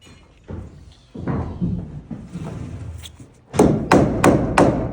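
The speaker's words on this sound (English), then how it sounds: "I drive a single nail and I leave the head sticking up" A hammer drives a nail into wooden wall framing. A few dull thuds come first, then a quick run of five sharp, close blows near the end.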